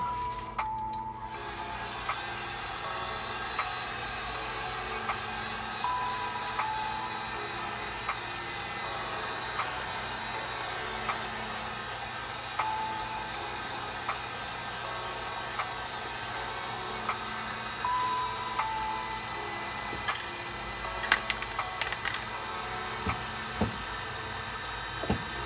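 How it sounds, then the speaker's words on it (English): Steady electric whirr and hum of a heat gun running continuously at low-moderate level, with faint ticks and small clicks scattered throughout. "Let's get the heat gun out."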